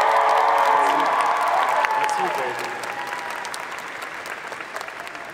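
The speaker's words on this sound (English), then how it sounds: "Can we get a huge round of applause for my two co-hosts?" An audience at an anime convention cosplay event applauds and cheers loudly, the clapping fading gradually while a voice speaks over it.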